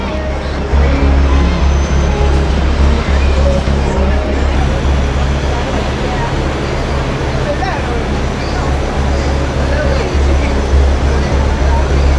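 Loud, busy street ambience in Times Square, New York City: a constant roar of traffic with crowd babble and indistinct voices all around.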